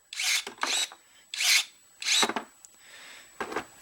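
Cordless battery-powered pruning shears snip through a small branch. Four close, short bursts of motor whir and cutting sound come in quick succession, followed by a faint fifth.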